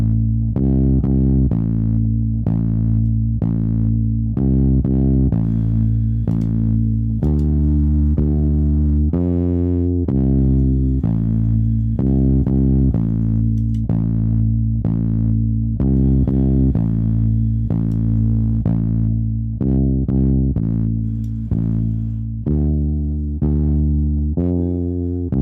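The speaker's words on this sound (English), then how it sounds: "Just a little bit of distortion, which I think is cool." Distorted, effects-heavy electronic music plays alone, with a repeating bass-heavy pattern and a gritty, saturated tone throughout.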